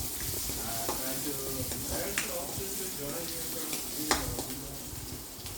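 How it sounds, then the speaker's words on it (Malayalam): Small onions sauté in the oil left from frying pappadam for a coconut chutney, giving a steady soft sizzle with occasional stirring scrapes and clinks, moderately close. "ഉള്ളി ആ പപ്പടം വാട്ടിയ പപ്പടം വാട്ടിയ ആ എണ്ണേൻ്റെ അകത്ത് തന്നെ ഉള്ളി ഒന്ന് ചെറുതനുസരിച്ച് വാട്ടി വെക്കാം"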